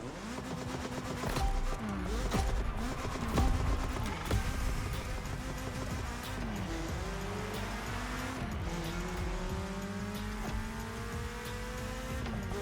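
A BMW M3 race car in The Crew Motorfest game roars continuously under hard acceleration, with rising and shifting engine pitch through gear changes and tire squeal, loud and sustained throughout.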